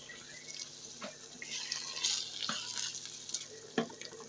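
Ingredients for kheema biryani being mixed in a pot, giving soft wet stirring and scraping sounds with a few light knocks against the side, close and fairly quiet with no voices.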